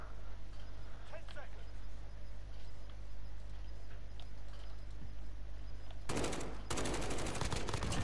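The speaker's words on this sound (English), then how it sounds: "Now they'll be really mad at me because I shot through the wall" Short bursts of automatic gunfire from Call of Duty Modern Warfare, shooting through a wall in a gunfight match, loud rapid shots near the end after a stretch of quieter background.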